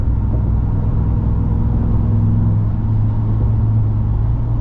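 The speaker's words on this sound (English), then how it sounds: "the Hellcat whine is just, it's perfection" A supercharged Hellcat engine in a Ram TRX pickup hums steadily while driving, a continuous loud low rumble with road noise and no clear whine peaking, holding even throughout.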